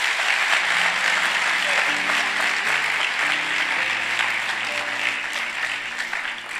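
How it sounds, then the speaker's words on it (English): Church congregation applauding steadily and loudly throughout, a dense crowd of clapping hands with low music or voices underneath that fades only slightly toward the end. "Clap for us. Clap for us."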